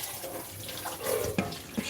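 Tap water runs steadily into a sink while something is being washed out, a continuous splashing stream with a few brief louder splashes, close and alone.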